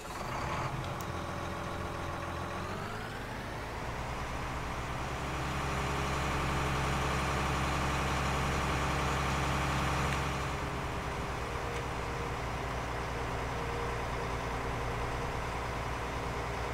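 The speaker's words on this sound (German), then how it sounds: "ich werde jetzt mal hier nochmal den Motor anschmeißen" A tractor engine in Farming Simulator 19 starts with a rising whine and settles into a low, steady running drone and rumble that holds for several seconds before easing slightly, with no talking over it.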